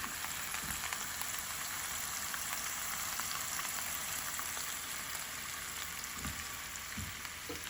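Japchae ingredients cooking in avocado oil over medium-high heat, giving a steady, even sizzle and hiss with faint crackles throughout, moderately close and with no one speaking.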